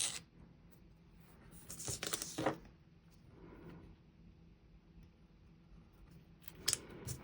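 Scissors snip through paper strips for a work planner, a few quiet, close crunching cuts in short bursts with soft handling noise between them.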